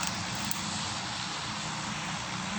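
A fixed-wing airplane from the PUBG video game drones overhead with a steady, loud broadband engine roar lasting the whole stretch, no voices over it.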